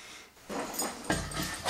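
A dog whimpers and snuffles up close in brief, soft bursts with short pauses between, growing a little louder toward the end, with no talking.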